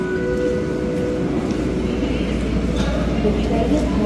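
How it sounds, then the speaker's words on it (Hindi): A metro train pulls into a station with a steady loud rumble and faint tonal hum, while people speak over it. "The next train will arrive in 1 minute."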